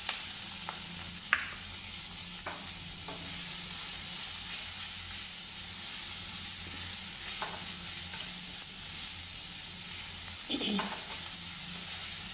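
Onion sizzling in hot oil with chillies in a pan, a steady bright frying hiss throughout, with a few scraping stirs of a spoon now and then, fairly close and without talking.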